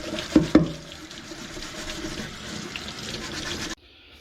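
Running water rinses a Jeep Comanche tail light lens after scuffing with a Scotch-Brite pad, a steady faucet-like wash with two brief louder splashes near the start, ending abruptly.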